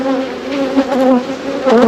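Honeybees swarm and buzz densely around an open beehive during a hive check, a close, continuous drone with shifting pitches.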